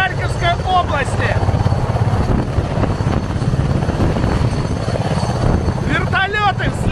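Russian Mi-26 military helicopters taking off and landing, with a loud, continuous rotor thump and turbine whine that swells and holds close by, carrying through the whole stretch.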